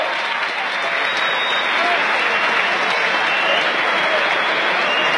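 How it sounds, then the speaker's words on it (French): Steady, dense applause from a crowd at a boxing event as a fighter is acknowledged, loud and continuous throughout, with voices mixed into the wash of clapping. "Allez, applaudissez-le quand même"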